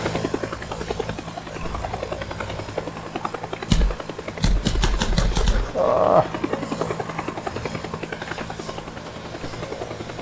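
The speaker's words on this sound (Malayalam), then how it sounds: "ഹെലികോപ്റ്റർ പൊങ്ങുന്നുണ്ട് കേട്ടോ" A helicopter's rotor thrums steadily and close as it lifts off in the video game Teardown, with a burst of mechanical rattling and a brief exclamation from a voice partway through.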